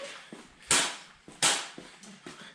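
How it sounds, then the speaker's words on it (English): A BB gun fires two sharp, close cracks about 0.7 seconds apart, each trailing into a short hiss, with softer clicks and knocks between them and afterwards. "I hear shots"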